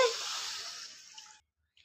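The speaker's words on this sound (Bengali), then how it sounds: "কড়াইশুঁটিটা সেদ্ধ করার জন্য আমি পানি দিয়ে দিচ্ছি কড়াতে।" A short burst of water pouring into a wok for boiling green peas, hissing and splashing for about a second before stopping, with a faint drip after.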